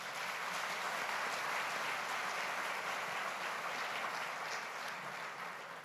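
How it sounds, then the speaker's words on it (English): A spontaneous round of applause fills a large hall at the 40th World Scout Conference, steady and even clapping from many delegates, moderately distant and continuous throughout. "a spontaneous round of applause"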